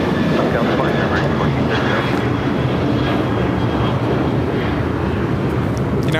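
A jet airliner takes off from a runway at LAX with a loud, continuous engine roar that stays steady throughout, with faint radio voices underneath.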